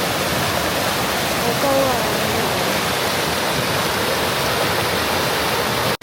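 A scenic waterfall on the Oirase stream in Aomori, Tohoku, Japan, roars as a steady, dense broadband rush of falling water, filling the whole clip at close range with a brief exclamation from a voice partway through.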